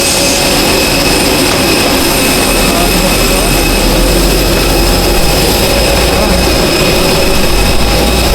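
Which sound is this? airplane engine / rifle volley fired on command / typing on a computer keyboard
airplane engine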